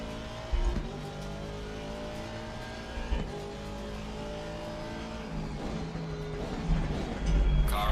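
Race car engine in a sim racing game during a daytime SimGrid event, droning steadily with several gear-shift dips and rising revs near the end, alongside faint tire noise and no talk.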